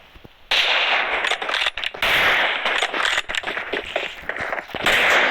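Rapid video game gunfire rattles out in dense automatic bursts, loud and close, with brief gaps between volleys.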